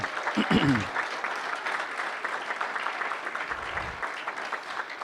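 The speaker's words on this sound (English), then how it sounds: "can we give her applause?" Hall of fame ceremony crowd applauding, sustained even clapping that fills the room throughout, with a voice briefly heard at the start and again near the end.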